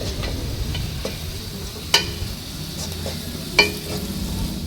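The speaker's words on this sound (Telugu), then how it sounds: "మన ఆనియన్స్ వేసిపోయినాయండి చూడండి ఎలా దూరగా వేగాయో ఇప్పుడు మనం టమాటాలు వేసుకున్నాం" Onions and tomatoes frying in a pan for a drumstick and egg masala curry, a steady close sizzle with two sharp utensil clinks against the pan.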